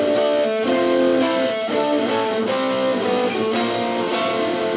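Guitar playing a riff, a repeating ringing figure of plucked notes with a sharp attack roughly every half second, close and clear, with no voices.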